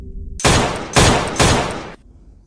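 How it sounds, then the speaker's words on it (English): Three loud, close gunshots, evenly spaced about half a second apart, each a heavy booming burst with a short ringing tail, followed by quiet. "It's 3 shots. It only took 3 shots to take her down."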